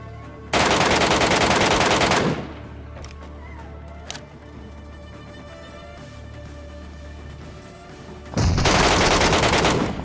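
Bursts of rapid automatic gunfire in a mobile battle royale shooter on an iQOO Z5 phone as two players fight, loud sustained volleys at the start and end with quieter game ambience and a single shot between.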